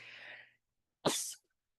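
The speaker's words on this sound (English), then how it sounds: "Hold on, I have to sneeze, I think." A single sharp, forceful sneeze bursts out close by after a moment of quiet, preceded by a faint breathy hiss.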